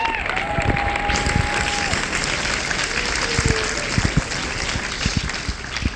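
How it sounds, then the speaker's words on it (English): Audience applause fills a student leadership event, steady clapping from a crowd throughout, with a faint whistle or tone near the start and some voices under it. "Let's get a round of applause for everyone."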